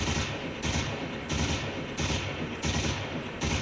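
RPD light machine gun in Modern Warfare 2 fired in short three-round bursts, dense loud repeated volleys arriving in a steady rhythm, roughly six bursts close and dominant with no talk.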